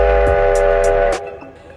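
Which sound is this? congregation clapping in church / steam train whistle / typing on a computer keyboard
steam train whistle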